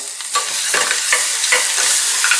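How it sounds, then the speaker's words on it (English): Green chili, ginger and garlic paste sizzling and frying in hot oil, with a steady crackle and repeated scraping strokes of a spoon stirring the pan. "Mix this really good with the oil, and we need to fry this for 10 seconds."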